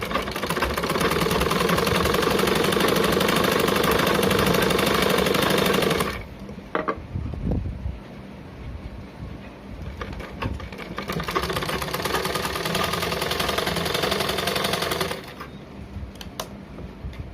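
A sewing machine stitching a blouse hook strip runs in two loud, steady mechanical bursts, about six and four seconds long, with quieter handling and fabric shifting between them.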